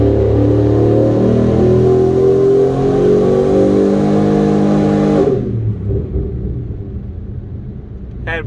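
A car with a 10-speed automatic gearbox and paddle shift revs loud and close during a dyno run-up, its engine tone climbing steadily and then dropping off sharply, followed by a lower rumble as it winds down.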